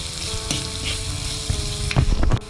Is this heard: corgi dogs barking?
no